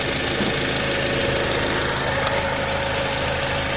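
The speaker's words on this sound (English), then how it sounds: "There's that famed K24 engine, the engine that lasts practically forever, longer than your own lifespan" A 2007 Acura TSX with its K24 engine idles steadily with the hood up, a close, continuous mid-pitched hum with a faint tick and a steady drone running through it, no talk present.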